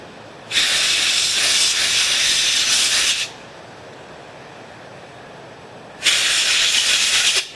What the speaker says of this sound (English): I know you're not supposed to put this carburetor cleaner on rubber stuff